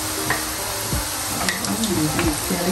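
Dough pig ear cookies deep-fry in hot oil, giving a loud, continuous sizzle with scattered pops and crackles and the occasional clink of stirring close by.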